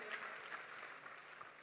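Crowd applause at a comedy festival in Kanpur Dehat with Sunil Pal, a faint, steady patter of clapping from a distant audience.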